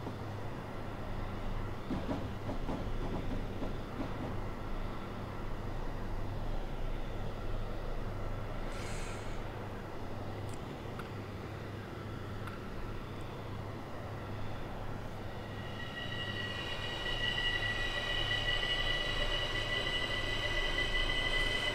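Train rolling along rails in Train Simulator 2020 on the S6 line toward Seefeld in Tirol, a steady low rumble and clatter throughout with a brief squeal midway and a thin high wheel whine rising near the end.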